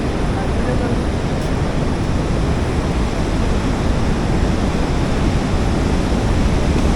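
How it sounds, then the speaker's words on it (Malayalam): Athirappilly waterfall roaring, heard nearby as a steady, loud broadband rush that holds unchanged throughout, with no other sounds standing out. "വെള്ളച്ചാട്ടത്തിൻ്റെ അടുത്തോട്ട് നമ്മൾ പൊയ്ക്കൊണ്ടിരിക്കുക."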